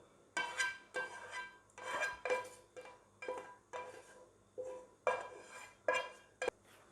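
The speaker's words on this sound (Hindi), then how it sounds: "इसको हमने अच्छी तरह से मिक्स कर लेना है।" Chicken and vegetables being tossed with sauce in a bowl for chicken shashlik, heard as bursts of close scraping and clinking of a utensil against the dish, repeated in an uneven rhythm with short pauses.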